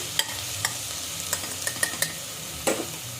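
Mutton curry frying in a pan until brown, with a steady sizzle and several sharp stirring scrapes and knocks against the pan, close, without any talk.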